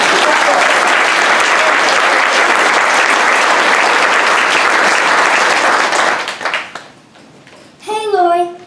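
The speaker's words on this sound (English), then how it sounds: "Let's give them another round of applause." Sustained audience applause at a Jonesborough Yarn Exchange storytelling show, dense and loud for about six seconds, then thinning out as a voice starts speaking near the end.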